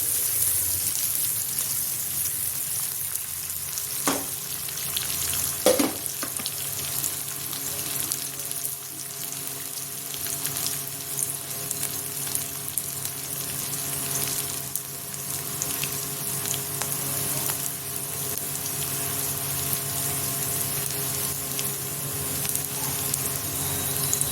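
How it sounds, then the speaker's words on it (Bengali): Onions fry in a pan with a constant, even sizzle close by, broken by a couple of brief clicks. "পেঁয়াজটা হালকা ভাজবো, একদম হালকা।"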